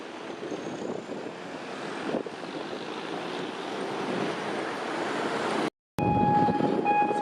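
Two freight trains pass a level crossing side by side, one of them hauling a damaged car, a loud close steady rumble of wheels and wagons that holds throughout, broken by a brief cut near the end.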